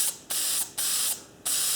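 An old RP7 spray can hisses from its nozzle in three loud, steady bursts, each lasting about half a second, with short silent gaps between them.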